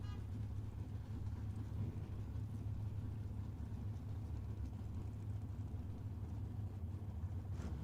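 LS-powered Fox Body Ford and an early-model Chevelle sit at Tucson Dragway, a steady low engine rumble droning evenly throughout, loud and continuous with no clear revving bursts.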